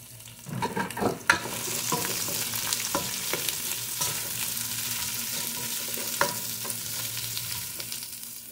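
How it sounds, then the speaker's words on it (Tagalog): Large onion chunks hitting hot oil in a pan for a fish dish, a burst of loud crackling at the start settling into a steady sizzle, with a few spatula stirs and clinks scattered through. "Lagyan na natin ang malalaking tipak ng sibuyas"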